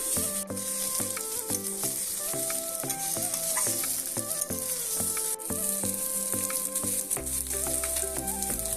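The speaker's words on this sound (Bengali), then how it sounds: "লবণ দিয়ে কিন্তু আমি সুন্দর করে কষিয়ে নিয়েছি" Chicken sautéing in a pan for Bengali basanti pulao gives a loud, steady sizzle and fry that fills the whole stretch, with no talking over it.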